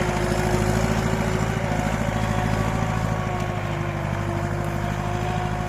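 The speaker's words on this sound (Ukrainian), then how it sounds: "Побачимо, як мотор тягне, чи душиться, чи ні з турбонадувом." An MTZ-80 tractor with a turbocharged engine pulls a 2.7 m disc harrow across a field, giving a steady, loud, continuous diesel drone under load with no speech.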